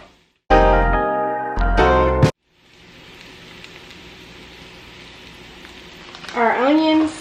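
Onions with a pinch of Cajun seasoning cook down in a pan, giving off a soft, steady sizzle after a couple of loud tonal bursts at the start. A brief rising tonal sweep comes in near the end.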